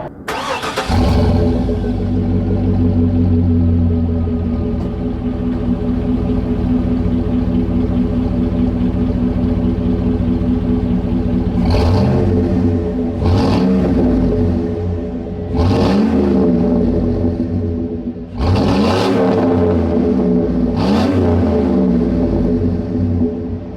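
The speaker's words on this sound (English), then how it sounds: "we're gonna get a quick exhaust blip" 2001 Chevrolet Tahoe engine starting and idling outdoors, then five quick exhaust blips from short throttle revs, loud and close, each a sharp rising and falling roar over the rumbling idle.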